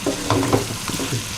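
Mutton karahi being stir-fried with crushed chilli, a loud close sizzle with quick scraping strokes of a spoon against the wok.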